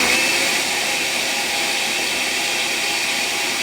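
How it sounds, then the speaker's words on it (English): Blender running at full speed, blending chipotle sauce for tamales: a loud, steady motor whir with a high-pitched whine, continuous and unbroken throughout. "So now we blend."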